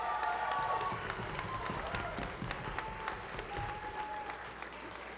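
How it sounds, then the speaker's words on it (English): An audience at a youth harmony singing festival applauds for music educators, steady crowded clapping with a few scattered louder claps, fairly distant and alone. "Applause for the music educators."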